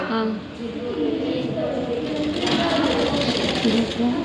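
A sewing machine stitches a blouse in a steady, continuous run, its motor whirring close and even throughout the short burst, with a voice talking now and then over the mechanical hum.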